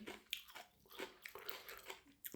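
Close, faint crunchy bites and chewing on fresh, juicy jujube fruit repeat in an irregular rhythm, with wet crisp snaps between quieter mouth sounds and no talking.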